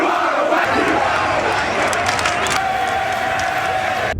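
Stadium crowd at an England cricket match, a loud continuous roar of cheering voices and shouts sustained throughout, dense and close with a rising tonal swell near the end.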